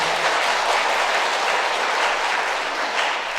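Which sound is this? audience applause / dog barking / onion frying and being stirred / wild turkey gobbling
audience applause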